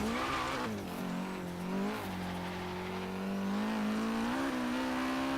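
A Nissan S14 in the video game Forza Horizon 3 holds a steady droning engine note that rises and falls as the car drifts, with a continuous tire squeal running underneath the whole time.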